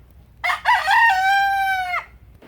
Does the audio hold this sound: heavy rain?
no